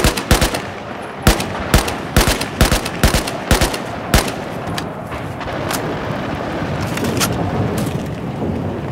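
Gunfire in the Battlefield 4 campaign, on the Suez chapter: a rapid string of loud, close shots and bursts over the first few seconds, then a sparser shot or two fading into a rumbling battlefield background.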